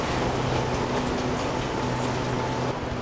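An SRT Red Line electric commuter train pulls in at an elevated platform at Rangsit station, a loud steady rumble and roar with a low hum, close by throughout and no talk.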